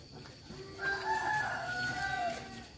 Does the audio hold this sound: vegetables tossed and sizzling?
no